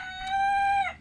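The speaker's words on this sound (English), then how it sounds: "Those are my roosters." A single rooster crows once, a long harmonic call that holds steady and then drops off at the end, close and clear with no other sound.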